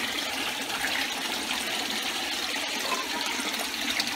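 Water rushes steadily through four 2-inch PVC plumbing outlets, a continuous broadband splashing hiss with no pauses, close and fairly loud throughout.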